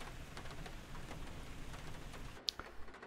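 Steady rain falling in the Flight Simulator 2020 game during a flight over Nova Fatima, Paraná, a continuous hiss of drops that runs throughout, with a brief sharp tick near the end.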